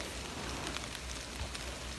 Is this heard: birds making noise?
no